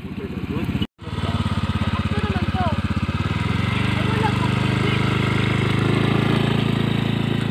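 A nearby motorcycle engine chugs in a fast, even pulse, cutting out for an instant near the start, then running louder and steadier.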